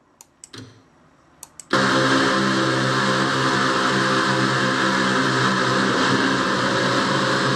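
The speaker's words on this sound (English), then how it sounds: "Austin Tally got his car to start back up." A race car in the Castrol GTX Cup Series racing game fires back up after a crash: a few faint ticks, then a sudden loud, steady engine idle that holds on alone.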